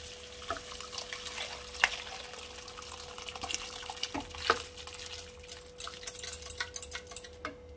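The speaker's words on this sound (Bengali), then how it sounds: "এইবারে আমার সিদ্ধ করে রাখা লাউ আর ছোলার ডালটা আমি এর মধ্যে দিয়ে দেবো, অ্যাড করে দেবো" Boiled bottle gourd and chana dal added to a spice paste frying in a pan, soft wet plops and scraping stirs over a gentle sizzle at close range, with a steady faint hum throughout.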